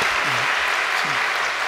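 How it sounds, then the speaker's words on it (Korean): Indoor audience applause at a religious gathering, a steady dense wash of clapping from many hands throughout, with faint low voices murmuring underneath. "도서방 가족에게 박수 한번 보내겠습니다."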